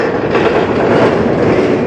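A CN freight train rolls past on the Strathroy Subdivision, a loud steady roar of wheels on rails with faint rhythmic clatter, close and continuous.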